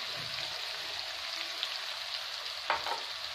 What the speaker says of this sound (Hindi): अब इसमें हम बाकी बचा हुआ था प्याज डालेंगे बारीक कटा हुआ।